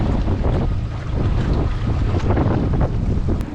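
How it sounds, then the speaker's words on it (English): Strong wind buffets the microphone on a river canal of the St. John's River, a loud continuous low rumble with gusty surges and faint water movement underneath, no voices. "the wind is picking up pretty strong now"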